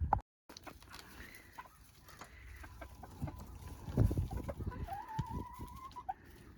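Chickens cluck and squawk inside a pen wrapped in stapled plastic during a record Oklahoma snow, with close, irregular calls and one long rising squawk near the end over low rustling.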